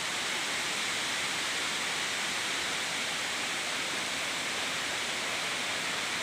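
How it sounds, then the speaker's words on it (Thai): Steady, dense rush of a waterfall at Pa Wai Falls in Phop Phra, Tak, a constant broadband roar held at even loudness throughout with no voices. "เดี๋ยวน้ำตกครับน้ำตก"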